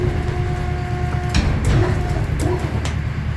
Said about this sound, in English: raise the ram, which is this thing right here, raise that right up